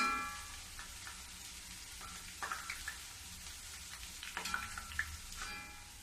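Besan batter for motichoor laddoo fries in hot oil while being stirred with a ladle, a soft crackling sizzle with faint scraping clinks scattered through, quiet and close.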